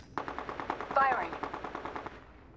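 Rapid automatic gunfire rattles in Apex Legends, a fast run of evenly spaced shots over about two seconds, loud and close, with a brief mechanical whine mid-burst.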